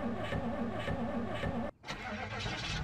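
Car engine in the zombie survival game Project Zomboid, a car found at a military base with an engine in poor condition, running steadily and loudly with a brief cut-out before resuming.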